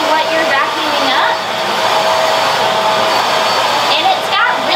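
A lightweight handheld vacuum cleaner runs loud and steady throughout, a continuous motor whine with a faint shifting tone, close to the listener, with no talk over it.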